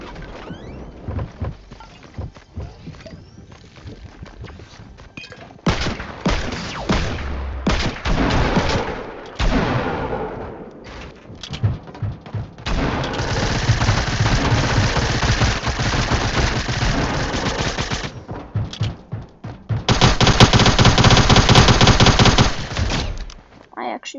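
Automatic gunfire from the player's weapon in a squad-based shooter video game, coming in loud, rapid bursts separated by short pauses, with some talk in the background.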